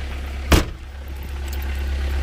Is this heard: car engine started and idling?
yes